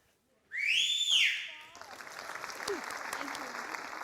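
An audience at a Tamil television dance show breaks into a loud, rising whistle followed by scattered clapping and crowd noise that settle into a steady background.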